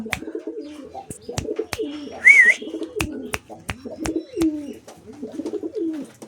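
Several pigeons coo in repeated low, rolling calls, close up, with sharp clicks and taps scattered between and a brief high whistle midway.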